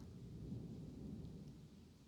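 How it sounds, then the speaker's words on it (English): A low, steady rumble of rolling thunder fills a storm, faint and distant, with no talking. "Ooh, that's a good thunder roll."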